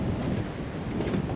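Gale-force wind roaring around a sailboat anchored near rocks off Santa Cruz Island, a continuous heavy rushing buffet heard from below deck, steady and loud.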